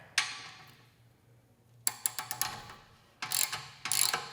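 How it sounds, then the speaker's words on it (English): Ratchet wrench loosening an exhaust clamp on a 2015–2017 Yamaha YZF-R1 motorcycle, giving a close sharp click followed by two quick runs of ratcheting clicks, with no voices. "I'm going to go ahead and loosen the clamp."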